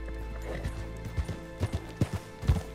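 Horse hooves clip-clop in Red Dead Online, a steady run of distinct thuds over a low game-engine hum, with a faint whinny mixed in; no talk.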